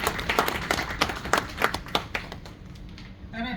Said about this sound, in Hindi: मैं चाहूँगा आप अपने साथी के लिए एक बार जोरदार तालियों से